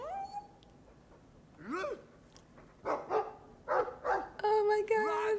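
Mabari war dog in the video game Dragon Age 2 gives a series of short barks, whines and yips, each sounding a few times in a row, fairly close and alone.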